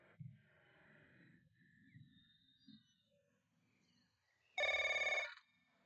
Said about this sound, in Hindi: श्री वांग, मैं एक फोन कॉल का जवाब देने जा रहा हूं।